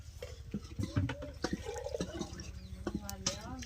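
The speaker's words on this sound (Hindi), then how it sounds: "तो इस तरह से हम पानी डालेंगे कढ़ाई में।" Water poured into a kadai set on a stove while making rolls, a splashing, trickling pour heard beneath a voice talking over it.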